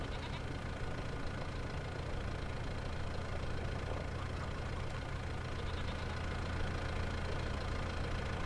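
A very dirty tractor engine idles with a steady, low, continuous rumble, fairly faint and unbroken.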